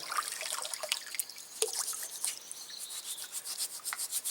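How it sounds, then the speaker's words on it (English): Water trickles and drips over a sand-scrubbed wooden spoon outdoors, with a steady wet rubbing and splashing close by, no talk. "Soak it in plenty of water."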